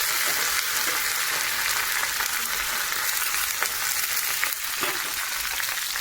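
Shallots, dried peppercorns and curry leaves fry in hot oil for a chutney tempering, giving a steady, close, dense sizzle that holds level throughout with a few small pops and crackles.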